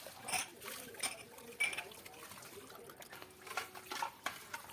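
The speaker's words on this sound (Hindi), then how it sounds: "किचन में मेरे सारे बर्तन मैंने सब निकाल लिए हैं बर्तन, और अब इनको मैं धो रही हूँ" Kitchen dishes and utensils being rinsed by hand, with soft clinks of metal pots and cutlery, splashing water and scraping at irregular intervals, quiet and close, with light background noise.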